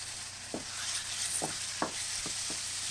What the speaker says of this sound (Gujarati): અને મસાલામાં આપણે મિક્સ કરીને શેકી દઈશું